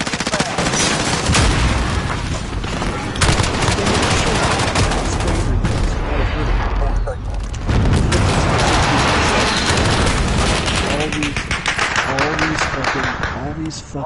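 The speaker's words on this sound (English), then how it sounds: "Be advised, friendly precision airstrike inbound." A friendly precision airstrike in a PS4 video game pounds the area with a dense, continuous barrage of blasts and gunfire, loud throughout, with voices talking over the din.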